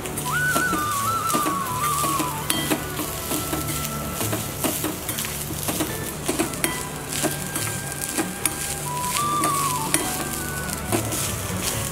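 Coriander seeds and grated fresh coconut sautéing in a pan for a Kolhapuri mutton khichadi, giving a continuous sizzle with frequent sharp scrapes and knocks of a spatula against the pan, close and without talk.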